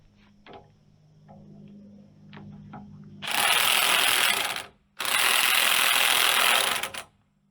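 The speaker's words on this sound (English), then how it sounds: "let's see if we can start removing some bolts here" Ratchet wrench working bolts loose on a motor grader moldboard, starting with a few faint clicks, then two long loud bursts of rapid ratcheting separated by a brief pause.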